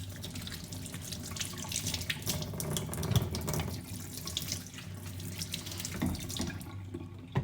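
Tap water runs steadily into a kitchen sink while vegetables such as chayote and ginger are rinsed for tinola, a continuous close splashing stream with faint handling noises and no talk.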